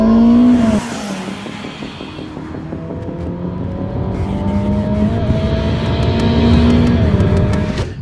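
A Ferrari SF90 sports car launches hard with a loud engine note that rises in pitch, drops at the shift, then climbs again through the gears, close and dominant.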